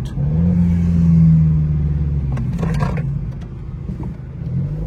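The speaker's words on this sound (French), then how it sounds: "Tu me referas une petite accélération, frérot. Qu'on entende ce beau son du mazout." A diesel BMW car engine drones low and steady, rising briefly as it revs, with a rough, throaty rumble close by.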